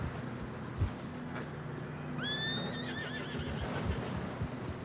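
A horse in Red Dead Redemption II gives a single clear whinny over steady wind and muffled hoofbeats in fresh snow, moderately close.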